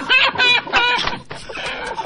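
Loud, close clucking in quick bursts, with a short pause in the middle before the clucking resumes.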